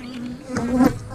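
Honey bees drone loudly and continuously close up at an eight-frame beehive, with the buzzing pitch wavering as individual bees pass nearby.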